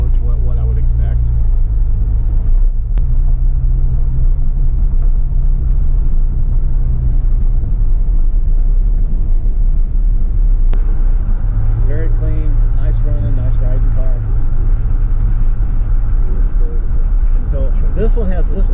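An automatic-transmission DeLorean on stock suspension, a very low-mileage car, cruises along with a steady low engine and road rumble throughout, while people talk over it inside the cabin.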